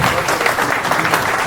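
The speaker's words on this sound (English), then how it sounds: "everybody give yourselves one more round of applause for the presentation" Dense, loud round of applause from the audience at a student coding competition presentation night, continuous clapping with no gaps and faint voices mixed in.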